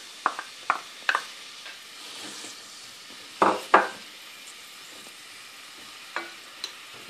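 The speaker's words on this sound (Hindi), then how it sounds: "तेल गर्म हो गया, मैं इसके अंदर प्याज डालूं।" Onions dropped into hot oil for a radish and meat curry, a faint steady sizzle with sharp scrapes and clinks of a spoon stirring against the pan at irregular intervals, close by and without talk.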